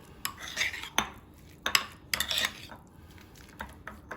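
A spoon clinks and scrapes against a dish as vegan mayonnaise is mixed in, several short bright metallic strokes spaced irregularly, close and moderately loud with no voices.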